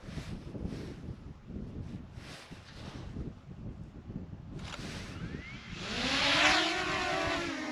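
A DJI Mini 2 drone taking off outdoors by the Snake River Canyon, soft wind rumble first, then a rising whirring whine of its propellers spinning up, close and fairly quiet, with no talk.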